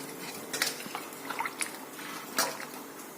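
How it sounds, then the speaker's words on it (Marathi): Bitter gourds are washed in water, with soft sloshing, small drips and light clinks from a vessel in a quiet kitchen. "दोन पाण्याने चांगले धुवून टाकायचे"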